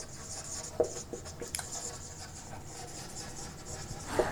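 Chalk or marker writing on a classroom board during a biology lesson, a few short scratchy taps and strokes spread across a quiet room with faint background hiss.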